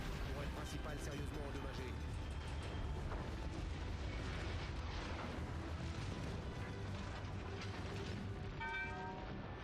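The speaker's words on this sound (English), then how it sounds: "I got two ships shooting me at once" Battleship gunfire and shell explosions rumble continuously in a World of Warships naval battle, a steady dense roar of distant booms with no clear pauses.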